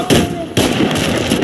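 A hand grenade goes off in the Warface shooter with two sharp, loud blasts that leave a rumbling, noisy tail under the game sounds.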